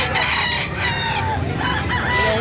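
Roosters crow and chickens cluck close by, several calls overlapping in a noisy farmyard chorus.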